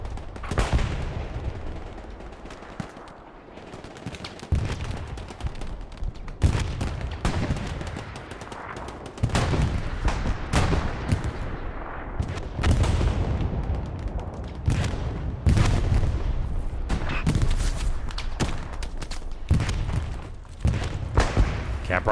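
A barrage of artillery strikes in the World War II shooter Hell Let Loose on the Foy map, a long run of heavy booms and blasts with gunfire in between, loud and close for over twenty seconds with no speech.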